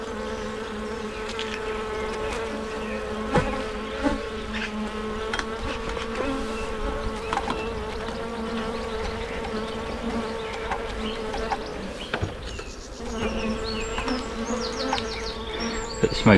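Honey bees buzz steadily around an open beehive during a hive inspection, a dense continuous hum close by with no talking.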